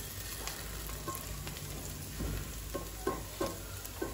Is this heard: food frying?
yes